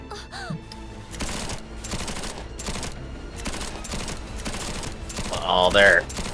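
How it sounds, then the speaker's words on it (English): An anime battle scene fills with rapid bursts of gunfire, crackling volleys at an uneven pace, while a person's voice occasionally speaks over the shooting. "Oh, they're already up to shooting with their guns at these."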